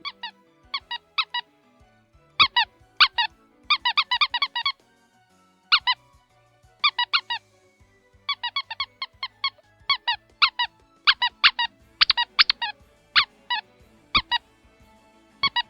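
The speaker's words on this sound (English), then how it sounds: "So what exactly is the function of a rubber duck?" A rubber duck squeaked repeatedly in quick bursts of two to five sharp, close, loud squeaks, separated by short silences, with no talking.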